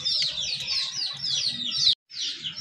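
Native desi pigeons, a pair offered for sale, give soft repeated calls and chirps close by, continuous for about two seconds before a brief gap and then resuming.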